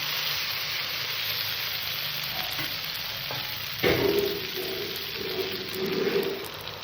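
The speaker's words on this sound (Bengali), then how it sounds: "এবার এখানে আমি জল দিয়ে দেব" Water poured into a ridge gourd, potato and tilapia curry in a hot pan: steady sizzling and stirring, then a sudden louder rush of water that turns the sizzle into a bubbling hiss, close up with no talk.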